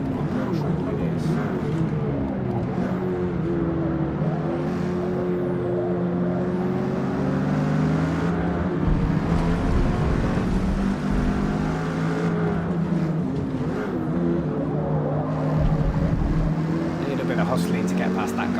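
Race car engines in the Forza Motorsport video game drone and rise steadily in pitch through gear changes, staying continuous and fairly loud under ongoing commentary.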